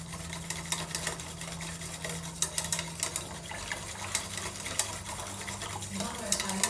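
A cornflour and cocoa mixture being stirred into hot milk for thick hot chocolate, with quick, rhythmic scraping and clinking of a spoon against the pot close up over a low steady hum.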